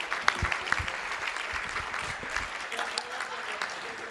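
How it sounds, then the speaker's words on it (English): Applause at a school board meeting, a modest crowd clapping at a moderate distance, scattered claps blending into a soft continuous patter that stays fairly quiet throughout. "Let's give them a round of applause for their support tonight."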